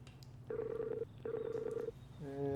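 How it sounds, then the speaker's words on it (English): A telephone dialing to place a call: two steady dial tones, each about half a second long, with a short gap between them, followed by the start of a ringback tone, all faint and with no talk. "let's call Mark."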